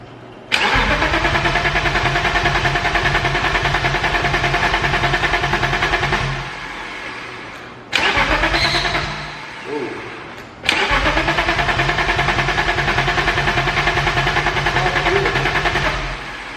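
BMW E34 engine cranking repeatedly without catching, with a long steady crank, a pause, a short burst and another long crank, loud and close.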